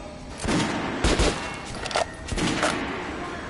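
Shotgun blasts in the video game Metro Redux, a handful of sharp booming shots spaced irregularly about half a second to a second apart, loud and close.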